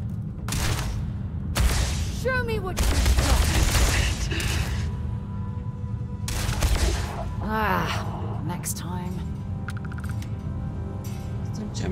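Gunfire in the video game Starfield, several loud broadband bursts of shots spaced irregularly over the clip, mixed with whooshing effects and a voice in between.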